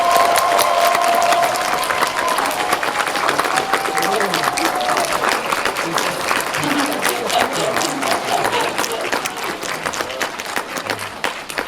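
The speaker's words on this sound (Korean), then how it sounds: "박수 부탁드립니다." Dense, continuous applause from a large cinema audience at a film premiere talk, with clapping filling the space while a voice speaks over it.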